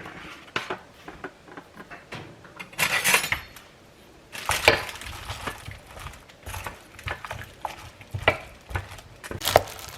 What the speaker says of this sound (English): let's put our onion soup in there and give that a little bit of a stir